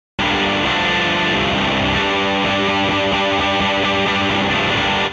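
A distorted rock guitar plays through a cabinet recorded with several microphones that are not yet time-aligned: a loud overdriven chord starts abruptly, then turns into steady rhythmic chugging that fills the whole passage without any voices.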